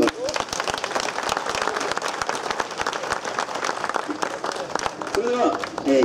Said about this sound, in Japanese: どうぞ皆様の掛け声と温かい拍手で、盛り上げていただきますようにどうぞ心よりお願いいたします。